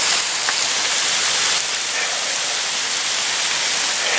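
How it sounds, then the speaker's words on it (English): Heavy rain pours down outdoors at a waterfall park, a loud, constant broadband hiss of falling water with no breaks. "it is raining. It's actually freaking pouring out here."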